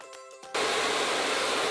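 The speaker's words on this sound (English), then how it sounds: "If you want to dry your hair twice as fast, use 2 hair dryers." A brief voice gives way to hair dryers switching on, filling the rest of the moment with a loud, steady, close-up blowing roar.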